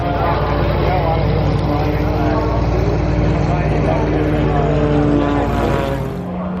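An F-33C aerobatic Bonanza propeller plane loops overhead at the Oshkosh EAA AirVenture airshow, its piston engine giving a loud, buzzing drone that rises and falls in pitch before easing near the end, with voices talking over it.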